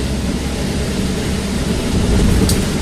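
Rain hits a moving car with its wipers on during a road-driving test course at the Gangseo licence test centre. A dense, steady hiss sits over a low road rumble, with a brief faint tick near the end.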